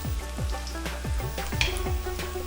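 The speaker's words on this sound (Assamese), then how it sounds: "আৰু এনেদৰে ৰঙচুৱা হোৱালৈকে ধুনীয়াকৈ ভাজি থাকিব।" Sewali flower pakoras fry gently in oil over a low gas flame, giving a steady, close, soft bubbling sizzle with small repeated popping bursts throughout and no voices.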